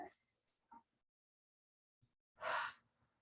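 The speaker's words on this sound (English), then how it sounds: "Breathe in." A person takes one deep, audible breath in during an exercise routine, a soft breathy rush lasting under half a second, preceded by brief quiet vocal sounds and near silence.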